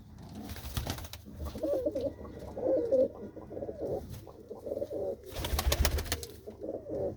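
Several hobby pigeons give low rolling coos in overlapping bouts, near and gentle, rising in a couple of fuller swells and then fading, with nobody speaking.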